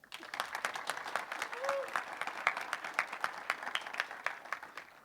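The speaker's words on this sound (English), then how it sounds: "it's time for a big applause for the Graz chapter and for Daniel" Audience applause at a Kubernetes community conference in Austria, honoring the Graz chapter: dense, sustained clapping from a sizable crowd throughout, steady and fairly near, with a few sharper individual claps standing out.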